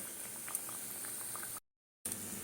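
Thekua deep-frying in oil, a dense bubbling sizzle that cuts out briefly before resuming, close and without voices.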